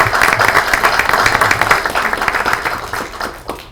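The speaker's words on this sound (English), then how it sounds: "Give yourselves a round of applause." An audience at a political town hall applauds steadily and loudly for several seconds, dense clapping that eases slightly toward the end.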